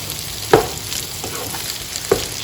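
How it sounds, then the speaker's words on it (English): Sweet and sour chicken sizzles steadily in a pan with vegetables, a loud continuous fry broken by two sharp stirring scrapes. "fry these up now with all the ingredients"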